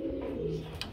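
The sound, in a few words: pigeons cooing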